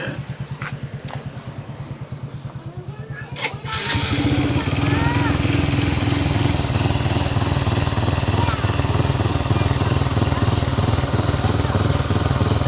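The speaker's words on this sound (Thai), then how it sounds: "ดี๋ยวลองติดเครื่องฟังเสียงหน่อยครับ" A Honda Dream Super Cup motorcycle with a stepped exhaust is cranked with a rapid chugging starter. It catches at about four seconds and settles into a loud, steady, close idle that runs to the end.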